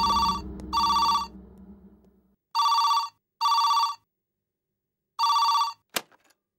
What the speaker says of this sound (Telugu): ఇదిగో అతని దగ్గర నుంచే ఫోన్